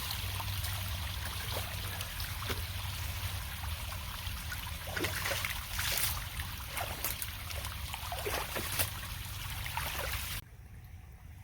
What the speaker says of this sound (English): the water is really running nice right into the culvert down there